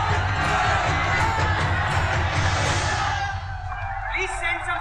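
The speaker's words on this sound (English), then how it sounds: "There's a huge crowd outside." A huge crowd shouts and whoops outside, a dense, loud mass of overlapping voices that carries on throughout and eases slightly toward the end.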